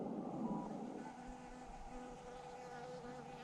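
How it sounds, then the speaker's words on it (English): A bee buzzes around someone operating an Elecraft KH1 radio on Timber Camp Mountain, a low steady drone holding close and fairly faint for several seconds with a slight swell early on. "That bee is going to sting me, and I'm not going to be happy about it."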